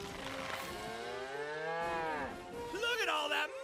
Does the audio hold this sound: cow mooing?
yes